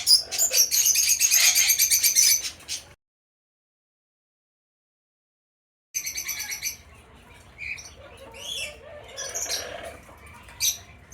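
Pet birds in a large walk-in aviary, including Patagonian conures, eclectus parrots, a turaco and Amazons, calling loudly and close: shrill chirps and squawks in dense bursts, a sudden silent gap, then more varied calls.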